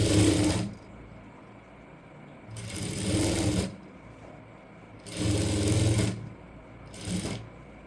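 Sewing machine stitching a second seam along a basic kurti, running in four bursts of steady rapid needle chatter separated by short pauses, close and fairly loud with no talk.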